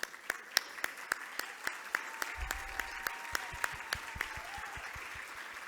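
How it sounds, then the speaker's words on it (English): Scattered, fairly faint hand claps from guests at a benefit dinner honoring standing board members, individual claps ringing out in a loose rhythm over a soft room wash. "let's give them a round of applause"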